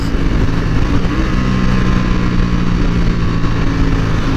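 Loud, steady engine roar of sport motorcycles nearby, a continuous rumble with no talking.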